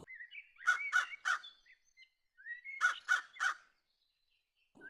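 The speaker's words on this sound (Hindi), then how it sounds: "कालू कौवा जोर जोर से चिल्लाते हुए लाडो के घोंसले के बाहर आ जाता है" Cartoon crow cawing loudly in two bursts of three harsh caws each, close and clear against silence.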